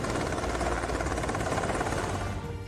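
An MH-60R naval helicopter roars steadily with a dense rotor and turbine wash, loud and close, holding level before easing slightly at the end.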